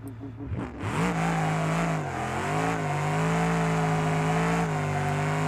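A muscle truck in BeamNG.drive running a 250 shot of nitrous launches hard, its engine note climbing steadily into a loud, sustained high-revving roar with a brief shift-like dip along the way.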